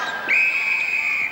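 An umpire's whistle at a test netball match between Australia and New Zealand gives one loud, steady, high blast lasting about a second, with faint crowd murmur behind it.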